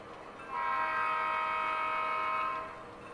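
A sustained, steady horn tone sounds for about two seconds from a model train running on a MoPac 20th Street switching layout, rising sharply and fading out, with no voices.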